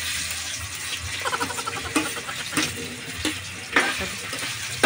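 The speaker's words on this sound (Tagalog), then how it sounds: "Ipiprito na natin yung hotdog para maluto." Hotdogs frying in hot cooking oil, a steady close crackling sizzle with scattered sharper pops and spatters throughout, no talking.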